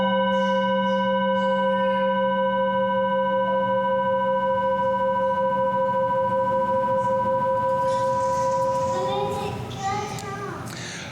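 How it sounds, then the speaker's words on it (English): A meeting chime rings out with one clear, sustained metallic tone that decays slowly over several seconds, joined near the end by children's voices and chatter. "As we listen to the chime, let us remember our connection to each other and the world around us."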